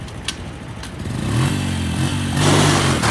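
ATV engine revving hard in first gear during a wheelie attempt at a muddy creek motocross track, the revs climbing and holding loud and close over about three seconds.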